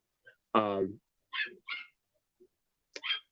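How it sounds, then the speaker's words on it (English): A dog barks at the door in one sharp, close bark followed by a few shorter yips and whimpers, spaced out over a few seconds in an otherwise quiet room. "it's at the door, by the way, because that's why she's barking."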